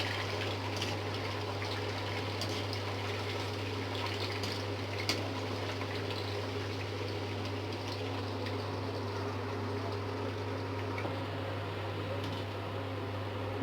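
Cauliflower (gobi) pieces deep-frying in hot oil give a steady, moderately quiet bubbling sizzle with a constant low hum underneath and no talking.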